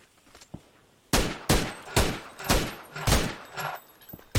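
Gunfire in a video game shooter: after a near-quiet start, about six loud, sharp bursts crack out in quick succession, each with a short rattling tail, and no voices are heard.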